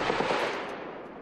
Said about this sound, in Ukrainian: Вже ззовні бойовики знову відкривають вогонь.